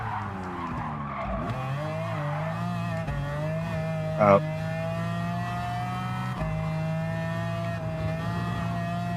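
McLaren F1 GTR race car in Gran Turismo 7, its engine droning loud and steady with harmonic pitch shifts through gear changes, a brief tire squeal partway through, no talk.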